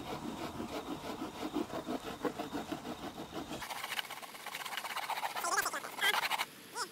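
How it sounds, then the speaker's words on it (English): Sticky Johnson surf wax is rubbed onto a surfboard in small circles, producing a rhythmic, scratchy friction sound of repeated strokes, dense and close at first, then lighter and more sparse. "Once the wax is on, now you can start looking for doing the small circles."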